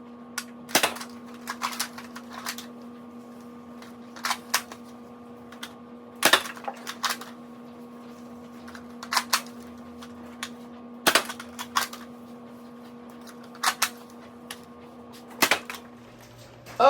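Dart Zone Max Pro foam darts fired from a toy blaster in a string of sharp, separate pops, some single and some in quick pairs, spread irregularly over a faint steady hum.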